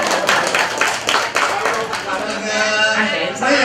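At a Vietnamese wedding send-off gathering, a crowd claps in a brisk, dense burst of overlapping hand slaps, loud and close, with voices talking over it.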